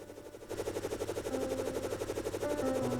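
A rapid-fire weapon in Terraria Calamity shooting in a fast, steady stream of clipped bursts with pitched tones, lasting about three seconds and heard alone.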